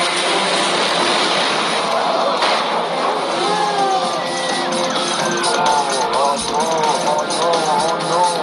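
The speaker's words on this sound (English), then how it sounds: "the pilot flies by at a very low altitude." A low-flying airliner roars past loudly, its engine noise sweeping over a crowd that chatters and cheers throughout.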